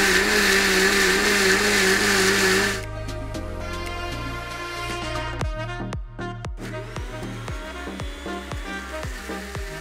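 A mixer grinder blends green chillies with a cup of water, whirring loudly and steadily for about three seconds before cutting off. Scattered metallic clicks and ringing taps follow as the jar settles.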